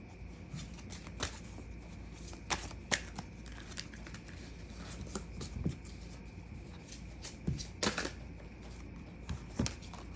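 Tarot cards being shuffled close by during a reading, a quiet continuous riffle broken by repeated sharp flicks and taps, with no voices.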